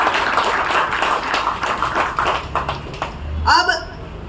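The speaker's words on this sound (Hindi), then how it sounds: "तो आप सबके लिए तालियां हम सभी बजाएं" An audience claps together at a gathering marking the 9 August Quit India anniversary: a dense, steady wash of applause for about three seconds, followed by a voice speaking near the end.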